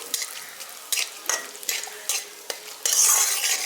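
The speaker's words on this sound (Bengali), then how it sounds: "ফোড়নটাকে হালকা একটু ভেজে নিচ্ছি" Whole cumin seeds and asafoetida tempering in hot oil for a village-style spinach potato curry: a close, crackling sizzle broken by repeated quick scrapes of a spatula stirring the pan, growing louder at the end.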